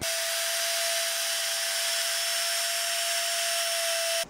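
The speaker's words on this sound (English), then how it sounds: "Now I'll cut the groove with a slot cutting router bit." A router fitted with a slot-cutting bit cuts a groove in wood for a spline miter joint, giving a loud, steady high-pitched whine with a constant tone that runs unbroken close by, with no voices.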